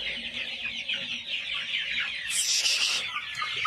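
Chickens on a poultry farm, a close flock of soft overlapping clucks and chatter, with a brief louder squawk near the end and no speech.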